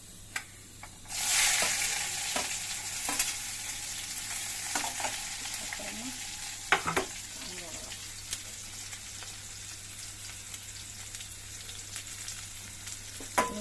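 Urad dal, chana dal and onion fry in a pan, giving a steady close sizzle with occasional stirring clinks and scrapes throughout.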